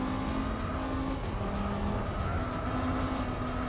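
A race car engine in Gran Turismo 4 with the Spec-II mod on PS2, lapping the Autumn Ring circuit, holds a steady, continuous drone with a faint hint of tire squeal throughout.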